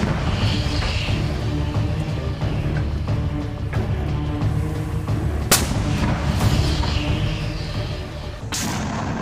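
A rocket barrage and gunfire during fighting east of Jabalia near a civil administration building: a dense, loud rumble of booms with sharp isolated cracks cutting through, continuous and close.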